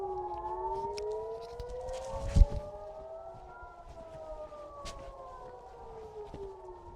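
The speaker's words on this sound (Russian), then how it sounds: "у нас был небольшой перерыв на сирену" Civil defense siren wailing from a distance, its rising and falling tones sliding slowly over several seconds, faint with a brief loud knock partway through.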